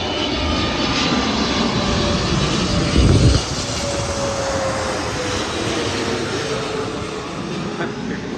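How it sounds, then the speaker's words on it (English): A Korean Air jet airliner roars overhead near Los Angeles Airport, a broad steady rumble with a faint whine, loud and close throughout, with a brief thump partway through. "I think we got Korean Air coming through overhead."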